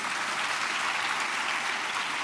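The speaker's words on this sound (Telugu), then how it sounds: "చప్పట్లు కొడుతూ స్తోత్రాలు చెప్దాం." A church congregation claps together in a dense, even burst of applause, a sustained crowd roar of hand claps with no voices on top.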